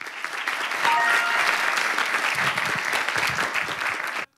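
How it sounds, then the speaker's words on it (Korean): At a military speaking contest award ceremony, an indoor audience claps steadily for several seconds, a full, even applause that stops abruptly. "박수 부탁드리겠습니다."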